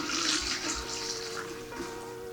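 Water is poured and drained out of the bottom tray of a seedling propagation setup, a steady, quiet rushing trickle that runs the whole clip with no talk.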